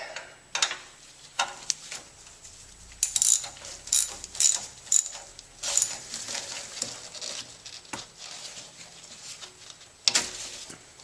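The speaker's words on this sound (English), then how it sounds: "loosen the tensioner off just a little bit more, and we'll be free" Accessory belt tensioner on a Honda Prelude being loosened during belt removal, giving repeated close metallic ratcheting and clanking with irregular bursts of tool clicks, no talking.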